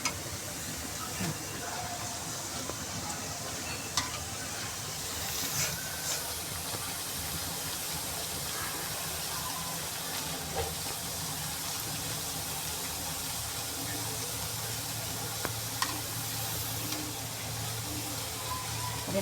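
Wheat flour chakli fry in oil, a continuous soft bubbling hiss with occasional small pops, steady and close, while someone talks over it.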